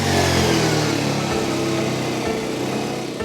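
A motorcycle engine runs loudly and close, a steady revving drone that holds level before easing slightly toward the end as the bike moves off.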